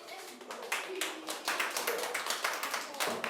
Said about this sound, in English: In the end, they all deserved an applause for their performance in that scene.